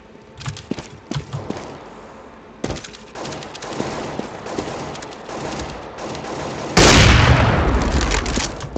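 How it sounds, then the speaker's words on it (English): Counter-Strike: Global Offensive gameplay, with scattered sharp clicks and gunfire-like pops, then a flashbang grenade bursts in a loud, bright blast that rings on for about two seconds. "Throwing the flashbang."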